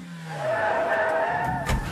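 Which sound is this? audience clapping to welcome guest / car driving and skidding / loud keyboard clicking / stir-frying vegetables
car driving and skidding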